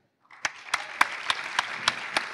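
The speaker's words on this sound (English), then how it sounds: "So please, a round of applause for Kay Tischer." Audience applause at the opening ceremony of the ISWI 2019 conference: a steady patter of clapping that starts abruptly and continues throughout, with a few louder, evenly spaced claps standing out, fairly close and without speech.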